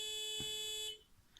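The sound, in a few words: Arduino MQ2 gas sensor alarm horn sounding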